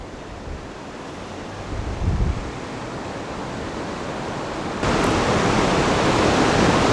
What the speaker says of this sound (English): there's some kind of water fountain out here. It's just spewing up out of there.